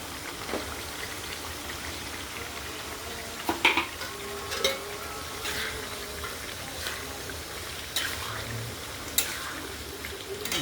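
Onions and chilies fry in a pan for a goat meat dish with a soft, steady sizzle, broken by a few sharp utensil clinks and stirring scrapes, close by, with no voices.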